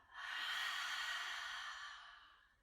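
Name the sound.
open-mouth ujjayi yoga exhale, H-A-ha breath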